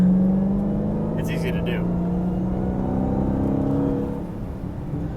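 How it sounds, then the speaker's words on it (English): A 2017 Dodge Charger Hellcat accelerates with a steady, rising supercharger whine over a deep engine drone, close and loud, while a person talks over it. "I'm glad I can hear the supercharger, because you kind of know, like that pitch."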